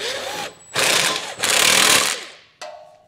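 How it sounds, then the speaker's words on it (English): An impact tool rattles in loud bursts as a 3/4 inch socket snugs trailer hitch bolts on a 2023 Chevrolet Equinox, three hammering runs separated by short gaps, ending with a brief whine. "you can go ahead and snug it down using a 3/4 inch socket"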